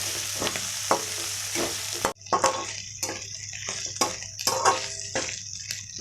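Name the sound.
frying green chillies and curry leaves in oil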